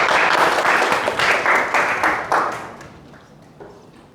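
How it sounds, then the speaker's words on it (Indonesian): A class of students claps in a school classroom, a burst of rhythmic applause that fades out over a few seconds. "Oke, tepuk tangan, aplaus."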